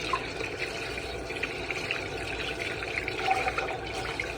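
Running water steadily rinses salt and sugar off a cured trout fillet, a constant close splashing hiss with small spatters, no talk.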